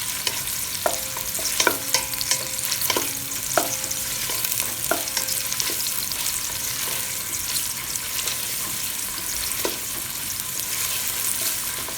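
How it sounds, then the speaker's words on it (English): Pancit canton bihon noodles are stirred as they fry in a pan, a steady sizzle broken by repeated scraping strokes of the utensil, close and continuous, with no talking. "Just stir it well so it will not burn and it will be equally cooked."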